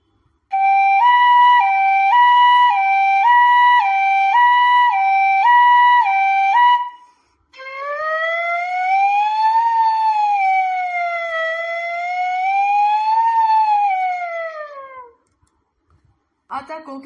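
A bansuri flute imitates a 108 ambulance siren. It plays a rapid two-note alternation for several seconds, then after a brief break a slow rising-and-falling wail, loud and unaccompanied.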